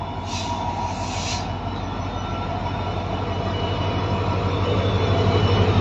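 A passenger train running from Porbandar toward Rajkot rolls past on the tracks, a steady close rumble of wheels and carriages that builds slightly louder toward the end, with a brief hiss near the start.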